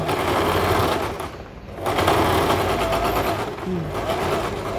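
Sewing machine stitching the placket of a polo shirt, a steady continuous whir with a brief pause midway before the motor runs on again, close and fairly loud.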